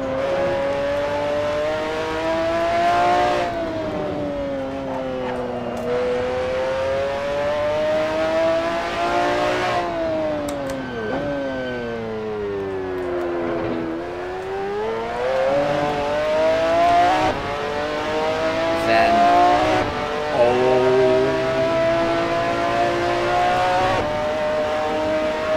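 McLaren F1 GTR race car in Assetto Corsa lapping Laguna Seca, its engine roaring loud and close, climbing through the revs and dropping on downshifts over and over, with brief tire squeal in the corners.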